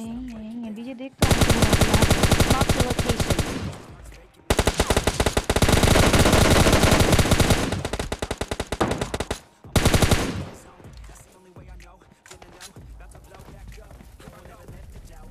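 Gunfire in the PUBG Mobile Lite video game, a warehouse fight: loud sustained bursts of rapid automatic shots with short breaks between them, followed by quieter scattered shots, with a voice talking through it.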